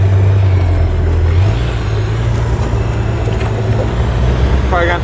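A UTV engine idles loud and close with a steady low drone, its pitch stepping up briefly as the touchy throttle is blipped, then holding at a rumbling run.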